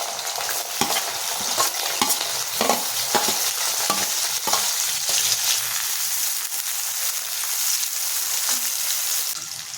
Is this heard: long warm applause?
no